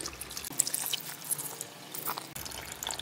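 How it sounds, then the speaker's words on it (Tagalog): Water pours into a cooking pot holding a tuna sinaing stew with coconut milk, a close, splashy stream that trickles and gurgles unevenly for a few seconds. "At mag-add tayo ng tubig."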